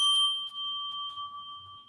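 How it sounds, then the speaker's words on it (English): A triangle chime from an Australian-made Sonic Geometry chime set rings with a clear, pure, sustained tone that decays slowly, heard alone and close. "here I have a lovely set of chimes that were made in Australia that are called the Sonic Geometry chime sets. And a triangle sounds like this."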